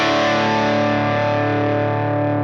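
An electric guitar chord rings through an amp simulator turned all the way up, with thick, sustained distortion, loud and alone, fading only slightly over the clip.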